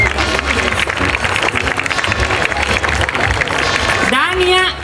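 A crowd applauds at a fashion show, producing sustained, dense clapping throughout, with a voice or tonal sound emerging near the end.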